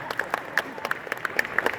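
A live audience at a Dungeons & Dragons show claps in sparse, uneven individual claps rather than a full ovation, fairly close and moderately loud.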